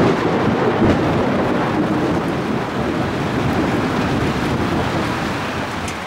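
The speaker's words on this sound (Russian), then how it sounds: "Тропический дождь, друзья." Heavy tropical downpour with thunder during Vietnam's rainy season, heard from a fisherman's house on the water: a dense, loud, continuous roar of rain with rumbling thunder throughout, no talking.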